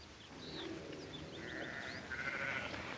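Sheep bleat in a steady wavering chorus, several animals calling over one another in a continuous noisy background on open rangeland.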